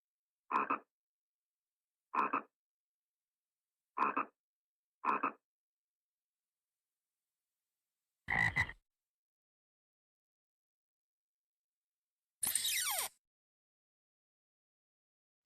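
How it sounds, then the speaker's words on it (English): A frog croaks in a series of short, deep, throaty calls, four evenly spaced croaks followed by two longer, rougher ones, each clear and close against near silence, with no talking. "Frog."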